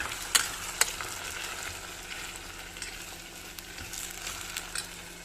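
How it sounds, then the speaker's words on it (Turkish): Potato, onion and garlic frying in a pot for soup, a steady close sizzle with a few sharp clicks of a spoon stirring against the pan. "cennet çorbamızın patatesi, soğanı ve sarımsağı. Bakın iyice kavuralım"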